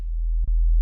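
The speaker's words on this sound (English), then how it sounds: "Just a simple sine wave," A plain sine-wave bass from Ableton's Operator synth plays a steady, deep low tone, loud and alone, with a brief dip near the middle.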